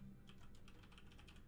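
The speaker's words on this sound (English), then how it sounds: "I'm typing a poll." Rapid typing on a computer keyboard, a steady run of light, close key clicks with no talk over it.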